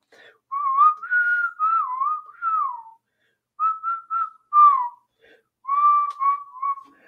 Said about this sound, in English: Does anyone ever like whistle on their like live streams?